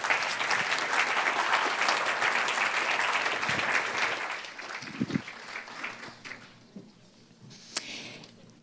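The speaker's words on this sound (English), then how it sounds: "Just another round of applause for Cody and Dan" Audience applause at a 2015 FAI summit, loud and sustained clapping from a crowd for about four seconds, then fading into scattered claps and a quieter room.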